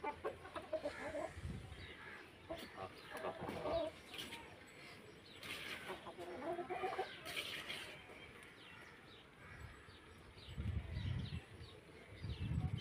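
Chickens and roosters peck at scattered grain after being let out, with fairly quiet, continuous clucking and occasional louder calls throughout.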